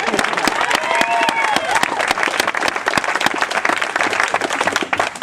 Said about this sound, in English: To Natania's family, yeah, that deserves an applause for them